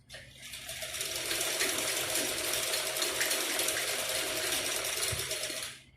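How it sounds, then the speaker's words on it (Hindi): A sewing machine stitching the pocket of a salwar runs in one continuous burst of rapid, even mechanical whirring and ticking for several seconds, close and steady, then stops. "अब हम जेब की सिलाई करेंगे।"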